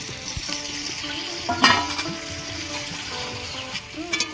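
Marinated fish and potato pieces with onions frying in a pan for a Bengali katla fish curry, a steady soft sizzle with a brief louder burst as food is stirred or added.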